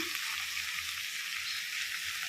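Chopped tomato, coriander and mint are stirred in a pan for vegetable biryani, giving a steady close sizzle and frying hiss with soft scraping underneath and no voices.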